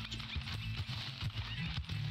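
A horse in the video game Red Dead Redemption 2 gives a short whinny while its hooves clip-clop in an uneven rhythm close by, and a voice talks softly over it.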